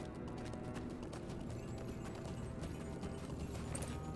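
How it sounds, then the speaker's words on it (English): A horse's hooves clip-clop steadily in the Lord of the Rings Online video game, a continuous even trot heard up close against a busy background of game sound. "Let me get on my horse."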